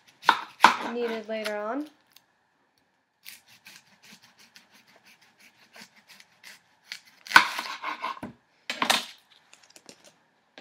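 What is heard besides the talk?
chopping an onion with a knife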